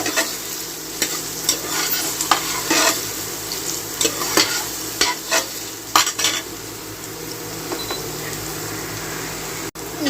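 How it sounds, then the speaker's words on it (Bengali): Potatoes stirred and fried in a pan, a continuous sizzle broken by repeated scraping strokes and clinks of a spoon against the pan, close and fairly loud. "আলুগুলো দিয়ে এবার একটু ভালো করে নাড়িয়ে চাড়িয়ে নেব"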